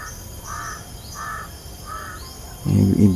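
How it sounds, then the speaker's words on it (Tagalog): Three harsh crow caws in a steady rhythm, moderately distant, followed by a brief low rumble of handling noise at the end. "Binabantayan ako nitong uwak nito."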